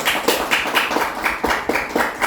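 Steady rhythmic clapping, a sharp clap roughly every quarter second, fairly close and even, with faint background murmur.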